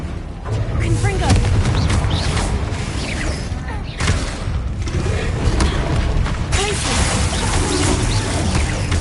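Confringo blast spell cast in Hogwarts Legacy: loud booming explosive bursts and crashing impacts repeating over dense, continuous combat noise, with a voice speaking through it.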